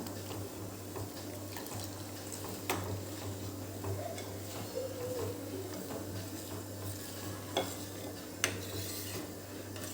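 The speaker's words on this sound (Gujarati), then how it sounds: "હવે ફરીથી આવી રીતે એને દસ મિનિટ સુધી આપણે હલાયા કરીશું" Custard milk is stirred slowly in a pan over a low flame, a faint, continuous swishing with soft scattered ticks of the spoon against the metal, under a steady background hum.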